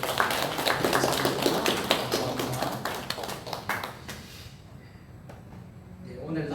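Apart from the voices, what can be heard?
applause welcoming a pastor in church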